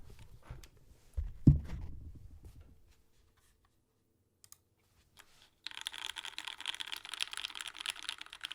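A TX-CP mechanical keyboard with thick PBT keycaps is typed on, giving soft, quick clicking keystrokes in a short quiet burst, followed by a steady hiss.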